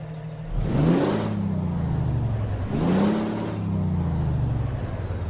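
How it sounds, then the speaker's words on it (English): In the game American Truck Simulator, a Kenworth W900's engine cranks and roars up twice, each rising surge settling into a steady rumbling idle, with a faint whining tone above. "just so that way you guys can hear the new engine, we'll go ahead and crank this bad boy up"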